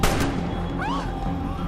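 A sniper rifle fires a single sharp shot in a 2007 action film, opening with a loud crack and a rumbling boom that fades under a tense movie soundscape with a faint whistling tone.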